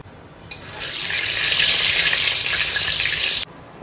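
Dried red chillies, cumin seeds and bay leaf hit hot oil as tempering for a Bengali fish curry, setting off a loud, steady hiss of sizzling that starts abruptly, holds for about three seconds, then cuts off.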